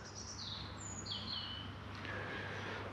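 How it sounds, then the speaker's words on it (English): Robin chirping near its nest outdoors, a few thin high whistled notes and sliding chirps, moderately distant over a steady low hum and background noise. "I've got no problem with Mr. Robin building a nest."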